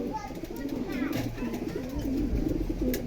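Racing pigeons, including a young black checker racer, coo in repeated soft, throaty rolling calls close to the microphone, one bird's phrase following another over faint background noise.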